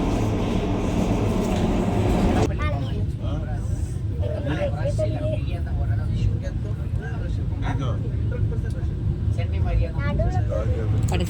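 Inside a Vande Bharat express train in motion: a loud, steady rumble of the coach fills the whole stretch, and people talk over it.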